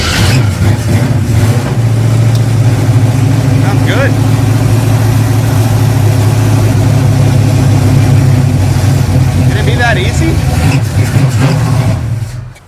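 A 1955 Chevy gasser's engine fires up and settles into a steady, loud rumbling idle close by, running throughout while people talk over it.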